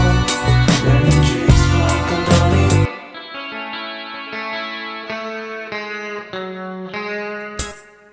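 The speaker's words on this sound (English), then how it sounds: "I wanted a clean, bright guitar for this arpeggio, so I've got EQ, chorus and reverb running" Electric guitar arpeggio with chorus and reverb: a loud strummed passage, then clean, shimmering picked notes ringing out with a wide, echoing tail.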